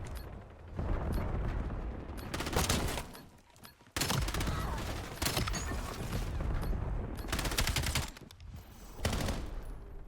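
Rapid automatic gunfire in the Black Ops 7 Infected mode, ARP rifle bursts rattling in dense volleys with a few brief lulls, loud and close throughout.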